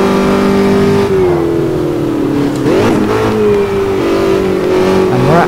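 A Formula Dirt open-wheel car in Automobilista 2 at Hockenheim revs loudly, its engine note holding steady, dipping briefly mid-way and climbing again.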